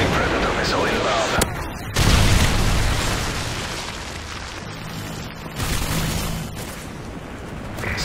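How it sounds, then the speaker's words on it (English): Predator missile and grenade explosions in Call of Duty Modern Warfare 3, loud booming blasts with a sudden hard burst, rumbling aftermath and gunfire around them, plus voices speaking in the game. "Friendly Predator missile inbound."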